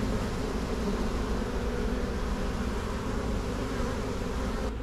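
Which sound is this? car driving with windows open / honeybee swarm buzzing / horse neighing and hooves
honeybee swarm buzzing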